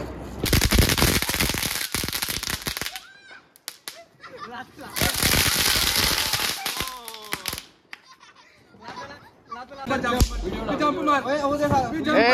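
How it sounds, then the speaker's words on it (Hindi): Diwali firecrackers burst outdoors in loud rapid crackling volleys, two dense rounds of sharp bangs with excited voices talking and calling between and over them. "पटाखे चलाने आओ नीचे हैं"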